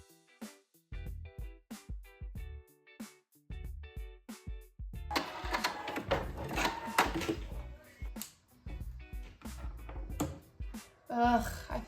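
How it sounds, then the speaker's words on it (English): A sewing machine runs in short quick bursts, then a longer stretch of rapid stitching, fairly faint and close, with brief pauses between runs. "get my sewing machine ready to go"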